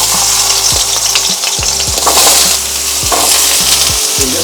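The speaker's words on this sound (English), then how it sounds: "So I'm just using 1 tablespoon of refined edible oil. To this I will add the diced potatoes." Diced potatoes fry in a tablespoon of refined oil in a pan, a loud close sizzle broken by repeated clinks and scrapes of stirring at irregular intervals, with no talking.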